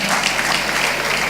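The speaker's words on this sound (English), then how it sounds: "if you want to clap," Audience clapping at a conference session on the entertainment industry: dense, steady applause from many hands, filling the whole short stretch at an even level with no voices over it.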